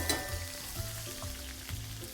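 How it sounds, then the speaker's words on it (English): Shrimp and shallots sizzling in a hot pan, a steady crackling fry with faint stirring and scraping sounds over a low background hum, no talking. "Want that nice sizzle happening."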